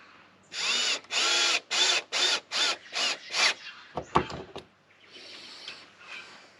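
Power driver sinking chipboard screws into wood for a diesel heater install, a series of loud buzzing bursts in quick rhythm, then rattling handling clatter and a quieter final whir.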